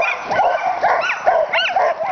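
Sled dogs bark and yip loudly and repeatedly while being harnessed and lined up, a busy overlapping chorus of high, excited calls close by with no talking.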